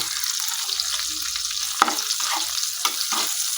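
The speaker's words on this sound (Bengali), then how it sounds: "মাছগুলোকে আমি নেড়ে ছেড়ে ভেজে নিচ্ছি" Dried fish fry in a pan with salt and turmeric, giving a continuous close crackling sizzle broken by a couple of sharp scrapes and knocks from stirring, with no talking.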